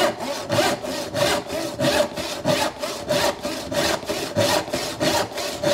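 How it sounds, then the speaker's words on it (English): A Lie-Nielsen hand panel saw cross-cutting a wooden board, rasping in a steady back-and-forth rhythm of about a dozen even strokes, close and clear with no talking. "I'm using a Lee Nielsen panel saw for cross-cutting"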